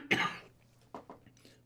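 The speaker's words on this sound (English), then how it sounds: "I'm going to cough again." One sharp, fairly quiet cough comes close to the microphone, followed by a few softer throat-clearing huffs, in a quiet room.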